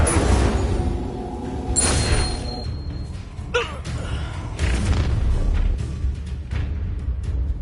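An Incendio fire spell cast in the Hogwarts video game bursts with deep whooshing booms and a flaring roar over dense battle noise, including a sharp crackling flare midway, loud and close.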